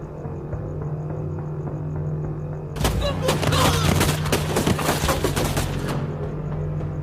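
A sudden burst of rapid automatic gunfire in a Hindi-dubbed action film, a dense volley of loud shots lasting several seconds over a low constant hum, then cutting off abruptly.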